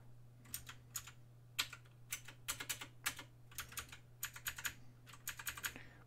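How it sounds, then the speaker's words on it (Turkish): Rapid clattering keystrokes on a computer keyboard during OpenGL programming work, irregular bursts of clicks fairly close and clear over a steady low electrical hum, with no talking. "Bugün klavyeyi bayağı kötü kullanıyorum."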